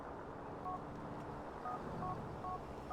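Phone dialing tones in GTA IV, a handful of faint evenly spaced beeps under a low rumble of game ambience.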